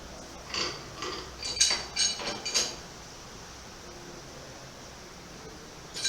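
Metal fittings of a shower column and bath-shower mixer being tightened, giving a few soft clicking, ratchet-like metallic scrapes and clinks close by in the first half, then quiet.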